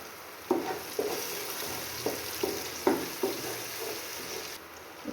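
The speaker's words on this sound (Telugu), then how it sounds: "ఇప్పుడు కొంచెం జీడిపప్పు వేస్తున్నాం" Cashews go into tomatoes frying in a pan for chicken biryani. A steady sizzle sounds under a regular series of soft stirring knocks, about one per second, with no talk.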